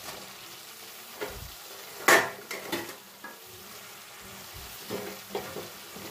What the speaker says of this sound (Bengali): এবার বাঁধাকপিটা এর মধ্যে আমি অ্যাড করে দিয়ে সব কিছুর সঙ্গে বাঁধাকপিটাও একটু নাড়াচাড়া করে নেব।